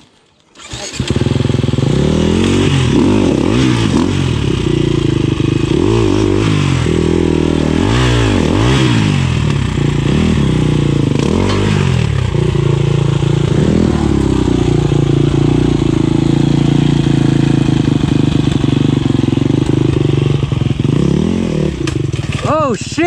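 A Beta X Trainer 300 dirt bike engine revs hard climbing a hill on a Texas trail, loud and close with repeated rising and falling throttle blips that settle into a sustained drone, while riders shout over it.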